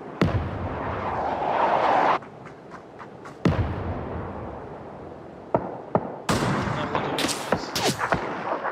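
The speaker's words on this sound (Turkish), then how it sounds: "Havan atıyor lan, havan atıyor." Video game mortar fire and explosions: sharp, loud blasts recur every second or two, some booming and some cracking, with rumbling decay and scattered gunfire between them, and no talk over them.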